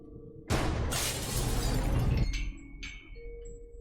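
Glass pane above a laboratory door shattering in the video game Gibbous, a sudden loud crash followed by a sustained spray of breaking shards, then a few scattered tinkling fragments settling.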